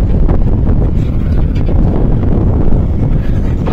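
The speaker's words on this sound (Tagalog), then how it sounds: "Ang hangin." Strong wind buffets the microphone outdoors at a roadwork site beside a house under demolition, a steady, loud, broadband roar that fills the whole moment without any voices.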